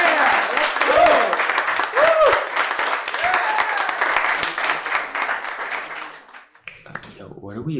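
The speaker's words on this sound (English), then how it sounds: "Yo, what are we applauding for?" A small group applauding and cheering indoors, energetic clapping mixed with excited shouts and voices, loud and close, fading out near the end as talking takes over.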